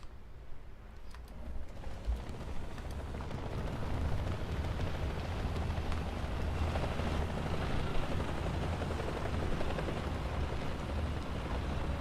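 Helicopters in the video game War Thunder: a dense, continuous rotor and engine roar with rumbling battle noise, loud and steady throughout without speech.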